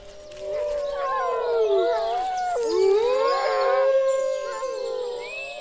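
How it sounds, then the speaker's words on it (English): Wolves howling in the Durmitor Mountains of the wild Balkans, several long overlapping wavering howls rising and falling together in a sustained chorus at moderate distance, with no talk. "Wolves still roam throughout the Dumitor Mountains, and their howl is a primal call of the wild."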